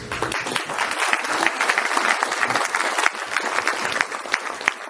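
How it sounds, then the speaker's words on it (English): A lodge audience at Salinas claps together, a lively sustained round of many hands with crisp individual claps standing out, close and fairly loud for about five seconds. "So give yourselves all a round of applause."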